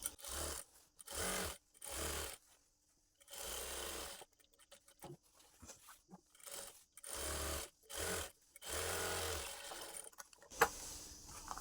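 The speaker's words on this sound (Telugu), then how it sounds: "ఇప్పుడు ఈ కట్స్కి ఎడ్జ్న ఒక స్టిచ్ అనేది వేసుకోవాలి." Sewing machine stitching along the edge of side cuts on a half-collar uniform dress, running in short repeated bursts with brief pauses between, close and fairly quiet.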